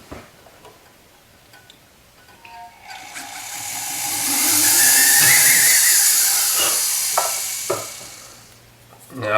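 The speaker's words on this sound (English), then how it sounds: "So that's why I choose to just drill a hole the size of the pin." A small drill bores a hole into a sterling silver pin, a high whining buzz that swells up gradually, holds steady for several seconds, then fades, with a few light clicks near the end.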